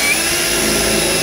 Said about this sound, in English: So I'm going to drill that hole first,